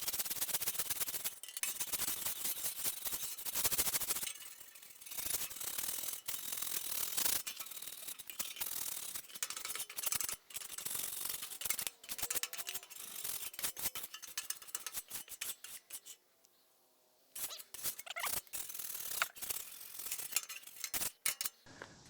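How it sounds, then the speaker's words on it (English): Metal scraper rasps and scratches across a hot Blackstone griddle surface being seasoned, producing loud, continuous, irregular scraping strokes with a brief pause near the end, close up and without talk. "It is starting to smoke a little bit, so we're gonna turn that off and just begin to scrape it."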